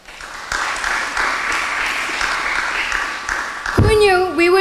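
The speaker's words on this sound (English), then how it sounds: "Let's applaud the students for their resilience and flexibility." An audience claps for students at a school graduation ceremony, sustained even applause lasting several seconds before a voice cuts in at the end.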